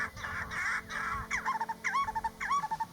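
A bird calls outdoors in a rapid run of honking, goose-like notes, close and clear, repeating in quick succession over a continuous background rumble.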